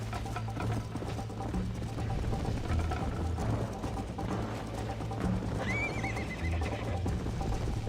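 In Red Dead Redemption, a horse gallops with a rhythmic clip-clop of hooves amid busy game background sound, and a clear neigh rings out partway through.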